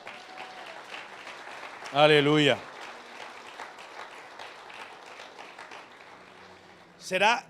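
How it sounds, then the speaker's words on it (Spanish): A church congregation claps in a sustained, moderate patter throughout, with a voice calling out loudly twice over the applause. "¿Cuántos le pueden dar un aplauso a Dios por esa palabra?"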